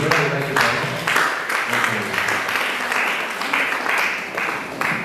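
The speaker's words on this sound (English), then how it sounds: "Can we clap for him, please?" Audience applause at an electoral integrity project close-out conference, a loud, continuous wash of many hands clapping close by, with a voice partly audible under it.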